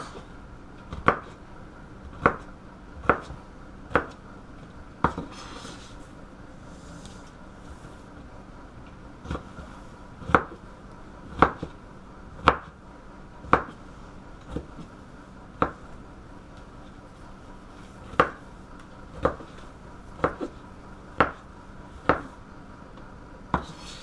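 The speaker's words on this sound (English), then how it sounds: "I just go through and I slice them all up, and then I dice them into smaller pieces" A kitchen knife chops bell peppers and other vegetables on a cutting board, sharp single knocks spaced about a second apart over a long stretch, with a few quick double strokes and no talk.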